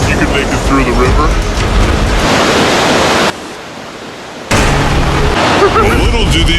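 River water rushes through a cave as a loud, dense roaring wash. The flow cuts briefly to a muffled hush in the middle before the full roar returns.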